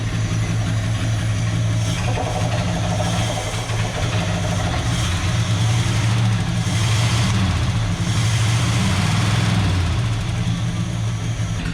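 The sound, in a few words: 1976 Chevrolet Scottsdale K20 engine idling with slight knock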